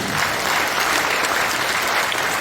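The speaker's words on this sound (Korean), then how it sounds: "한번 박수 한번" An audience at a Christian prayer breakfast in a National Assembly conference hall applauds the party leadership, a steady, dense wash of clapping from many hands that fills the whole moment without a break.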